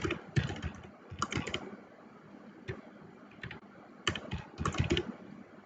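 Keys clatter on a computer keyboard as text is entered into an Excel data entry form, arriving in short bursts of quick, close taps separated by brief pauses.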